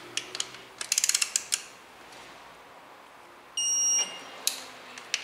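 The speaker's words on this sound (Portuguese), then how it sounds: "Mandar bala no torque angular neles." A torque wrench tightening connecting rod bolts during an engine rebuild: a short run of sharp metallic ratchet clicks, then a steady electronic beep and a few scattered clicks, close and quiet with no talking.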